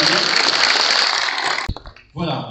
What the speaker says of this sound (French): ça peut l'applaudir